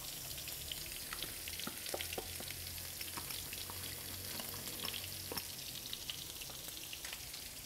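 Chopped onion and garlic go into a hot pan with a cooking mixture, giving a bright, steady sizzle and crackle that stays constant, with occasional stirring clicks and no talk.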